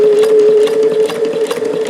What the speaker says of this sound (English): Another win for these Davis vertical feed sewing machines.